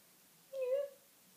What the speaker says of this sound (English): My cat's just arrived.